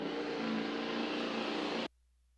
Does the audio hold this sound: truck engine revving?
yes